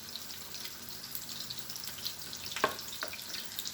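Thick hamburger patties fry in a pan with a faint, even sizzle and scattered crackles, with one brief sharper clink near the end.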